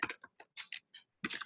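Several quick clicks on a computer keyboard come in short clusters with brief pauses between them. The typing is close, light and dry, and no one speaks.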